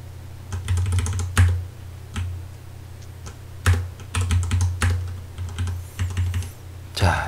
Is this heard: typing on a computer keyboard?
yes